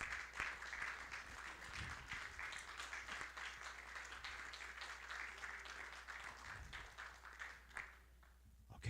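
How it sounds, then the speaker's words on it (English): Concert audience clapping for a singer at a 50th anniversary show, a steady wash of applause from a crowd that thins out near the end, faint and distant. "Let's give her a nice hand."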